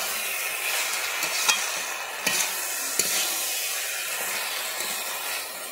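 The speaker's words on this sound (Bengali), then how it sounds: "ওই ইলিশ মাছের মাথাটাকে আমি দিয়ে দিচ্ছি। দিয়ে আমি ভালোভাবে নেড়ে নেব।" Fried hilsa fish head being stirred into a cabbage curry in a pan, with a steady sizzle and frying hiss and several soft spoon scrapes at the pan.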